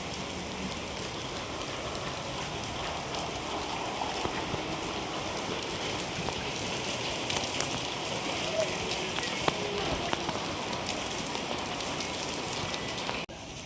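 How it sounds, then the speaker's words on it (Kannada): Heavy rain pours down steadily outdoors, a dense even hiss with scattered drops lasting throughout. "ಎಷ್ಟು ಜೋರು ಬಂತಪ್ಪ ಮಳೆ ಇವಾಗ"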